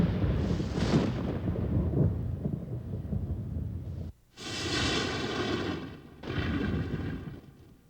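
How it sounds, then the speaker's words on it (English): Violent thunderstorm over a desert test site, heavy rolling thunder rumbling continuously, then two loud separate cracks and booms after a brief gap, with no speech. "The evening before the test, a violent thunderstorm builds and breaks over ground zero."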